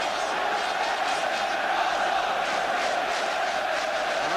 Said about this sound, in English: the goal has lifted the crowd